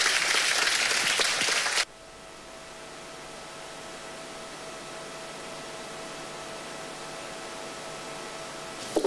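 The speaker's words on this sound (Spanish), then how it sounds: "Yo creo que se merecen un aplauso, ¿no?" Audience applause closes a conference day on managing human resources diversity: a dense burst of clapping for about two seconds that stops abruptly, leaving only a faint room hum.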